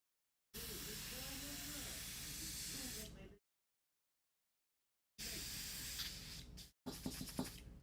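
Two bursts of airbrush spraying during cleaning: a steady close hiss of about three seconds, a pause, then a shorter spray broken by quick sputtering pulses.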